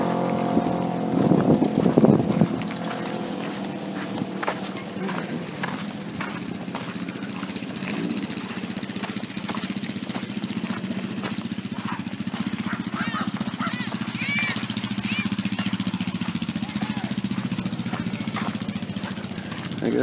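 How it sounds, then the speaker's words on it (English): Vehicle engines run nearby on a wooded track around Idaho City, Idaho, a steady rumbling drone lasting throughout with a louder passing swell at the start, while a person talks over it. "there's people driving vehicles"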